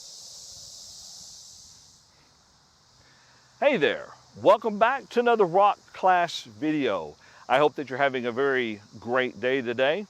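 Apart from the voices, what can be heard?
cicadas singing in the trees in the evening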